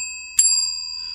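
A single bright ring of a bell, struck once and left to ring on as a steady, sustained metallic tone that fades only slightly, heard up close against quiet.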